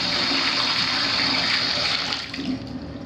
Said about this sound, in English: shower diverter leaks through the faucet like that